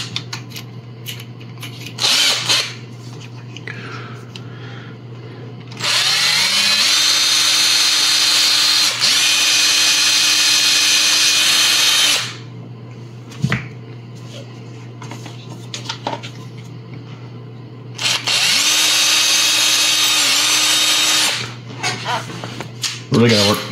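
A hand drill bores into a hollow 3D print with progressively larger bits, two loud whirring bursts of several seconds each, separated by quieter stretches with a speaking voice and small handling clicks.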